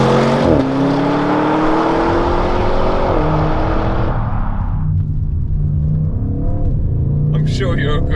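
A 2021 Audi RS7 quattro launches hard, its engine roaring loud and close and rising in pitch, with a sharp drop at a gear change before the note climbs again and fades; a voice speaks over the end.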